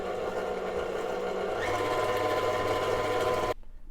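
A stand mixer with a paddle attachment beats moon pie batter with egg and vanilla, a steady loud whirring motor drone that runs evenly and then cuts off abruptly near the end.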